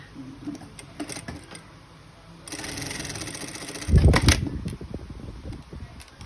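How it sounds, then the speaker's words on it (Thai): A sewing machine stitches a pen pocket onto a polo shirt sleeve, starting with light clicks and taps, then running in a steady mechanical whir that swells louder toward the end of the stitching. "เย็บปากกระเป๋าแขนก่อนค่ะ"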